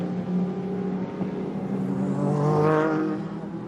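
Race cars peeling off at the 1998 Le Mans 24 Hours, a loud engine note that climbs in pitch and swells as a car passes close by, over a constant roar of other engines.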